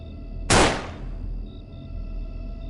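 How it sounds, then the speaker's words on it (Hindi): A single sharp gunshot cracks out loudly, then its echo decays quickly into a low steady background hum. "पूरे जंगल में गोली की आवाज गूंज गई"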